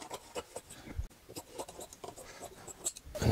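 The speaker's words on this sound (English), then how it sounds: "Now we're just going to cut off the excess Dacron that we don't need." Scissors snipping away excess Dacron polyester wadding on an upholstered dining seat pad, a close series of soft, irregular rustling cuts and brushing sounds with a faint knock near the middle, no voices.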